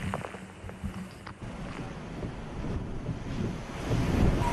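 Hurricane Irma wind and surf in Miami: a steady roar of gusting wind buffeting the microphone over crashing waves, continuous and loud with no voices.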